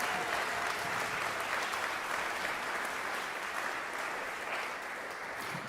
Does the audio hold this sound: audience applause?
yes